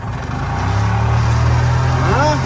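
Ez-Go golf cart pulling away after its fuel lines and battery cables were replaced, a close low engine drone that rises in pitch as it picks up speed.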